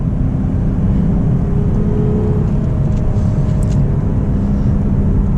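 Lexus IS 350 F Sport in sport mode pulling hard through a turn, a loud steady engine drone and road rumble heard from inside the cabin.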